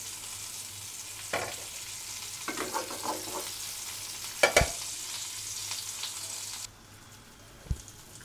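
A whole stuffed pointed gourd (potol) fries slowly in oil over a low flame, giving a steady soft sizzle with a few louder crackles and stirring scrapes, heard up close and with no voices.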